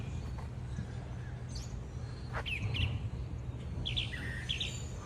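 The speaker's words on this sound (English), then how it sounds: "Where are these birdies at?" Birds chirp outdoors at Disney World in the morning, with a dove among them: scattered short tweets, faint to moderate, over a steady low outdoor rumble.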